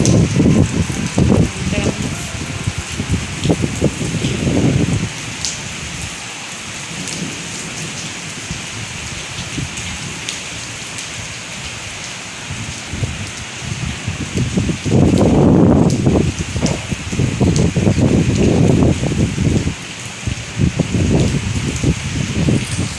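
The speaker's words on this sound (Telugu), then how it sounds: "ఎంత ఘనం పడుతుందంటే వర్షం, ఫుల్ వర్షం వస్తుంది." Heavy rain pours steadily throughout, a loud dense hiss of drops on surfaces with low rumbling swells like distant thunder, and someone talks over it at times.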